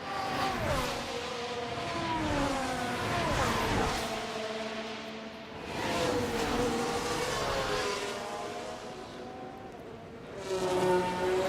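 An F1 race car engine in F1 Manager 24 at the Singapore street circuit, rising and falling in long revving sweeps as it accelerates, steady and fairly loud, with several cars heard passing.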